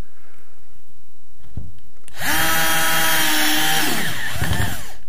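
A power screwdriver drives a screw into a metal drywall profile. After a quiet lead-in and a faint knock, the motor whines loud and close for about two seconds, its pitch sliding as the screw bites, then winds down.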